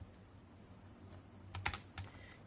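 Keys on a METOO Z56 mechanical keyboard with brown switches are tapped, giving a few soft, close clicks clustered near the end, with one sharper double tap standing out against a low background hum.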